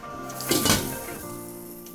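Water splashes briefly and sloshes as canning jars of hot pepper jelly are lowered into a boiling water bath, then settles to a steady bubbling simmer.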